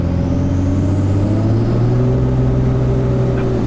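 A Cummins-swapped 6.4 Ford truck engine accelerating hard at three-quarter throttle, a loud, steady diesel roar with a rising whine and strong low rumble, close and continuous with no talking.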